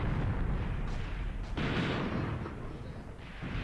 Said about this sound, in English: you can see where the artillery is falling